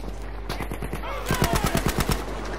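Machine gun fire in the World War II shooter game Battlefield V, with a rapid burst of sharp, evenly spaced shots that grows louder partway through, over steady background game ambience.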